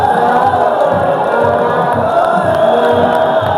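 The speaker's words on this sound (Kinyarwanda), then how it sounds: "aba ni abafana muri kubona hano" Football fans roar and cheer without a break at a Kagame Cup match between Kigarama and Gishari, a dense, loud crowd noise with rhythmic chanting or drumming beneath it.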